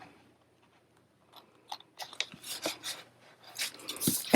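Scissors cutting planner paper pages, a close series of crisp snipping and crunching strokes that begin after a near-silent pause and come in an uneven rhythm, with no talk.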